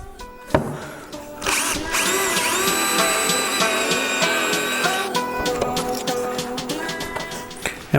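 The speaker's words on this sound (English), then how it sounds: "Come over here and actually drill my hole through." A power drill whirs up and bores a 3/8 inch hole through a wooden cornhole board, its motor whine steady for several seconds before winding down, close and loud with a few knocks around it.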